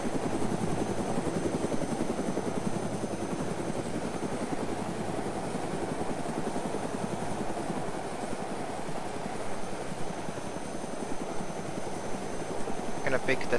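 A helicopter in the video game ArmA 2 being flown back into a hangar, its rotor thumping in a steady, continuous drone throughout.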